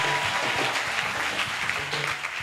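A church congregation applauding during a testimony and prayer gathering, dense steady clapping from many hands filling the room without a break, no talk.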